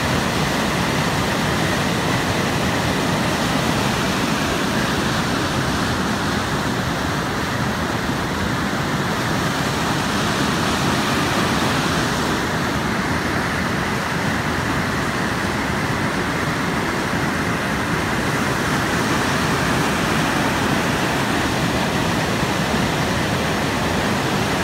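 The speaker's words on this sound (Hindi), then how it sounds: "पानी बहता है यहाँ" Water rushes continuously at a temple, forming a loud, steady broadband roar like a stream or small waterfall that fills the whole stretch without pause, close at hand and with no one speaking.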